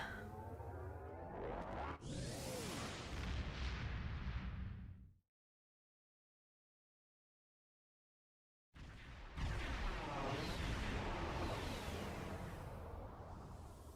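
Starship weapons fire against enemy ships in a space combat game, dense booming blasts, whooshes and explosions filling the mix loudly, then cutting to total silence for several seconds before the barrage resumes.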